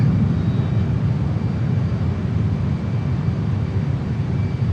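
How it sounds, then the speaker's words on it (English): A JAS-39 Gripen jet with its afterburner lit, flying in a flight simulator over the mountains of Andorra: a loud, steady, broad engine roar held continuously with no other sounds. "Afterburner saves the day."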